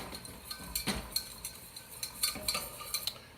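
A utensil stirs mustard into a cooking mixture in a pan, giving quiet irregular scrapes and clinks against the pan over a faint sizzle, with no voices.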